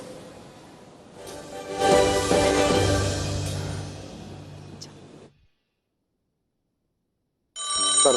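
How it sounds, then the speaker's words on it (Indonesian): An old-style telephone rings loudly in a continuous burst for about five seconds, stops into silence, then starts ringing again near the end. "Dulu ada telepon."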